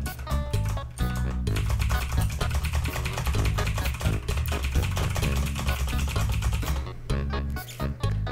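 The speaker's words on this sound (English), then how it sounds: "Very loud keyboard noises." Loud, dense computer keyboard typing clatters almost without pause, fast overlapping keystrokes filling the stretch with only brief gaps.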